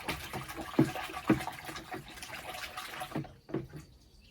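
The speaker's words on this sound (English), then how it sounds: "swish it around in the clean water" A white mobility cane swished around in a bucket of clean water, faint sloshing and swirling with a few soft splashes, quiet and close, fading near the end.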